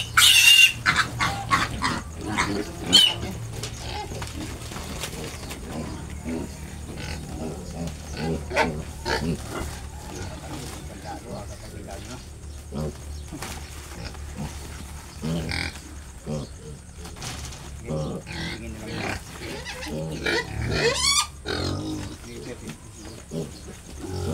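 Native pigs and piglets grunt and squeal repeatedly amid a noisy pen, with people talking nearby and occasional louder shrieks toward the end.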